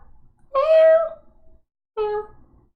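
A person imitates a cat meowing with two drawn-out, whiny meows separated by a short pause, close and clear.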